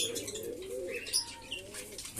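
Pigeons kept loose in a home loft coo softly and repeatedly nearby, with a few faint chirps over quiet background.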